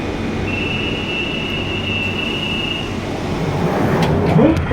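A London Underground Central Line train running toward Ealing Broadway, a steady loud rumble of wheels and motors with a faint high whine, swelling slightly near the end.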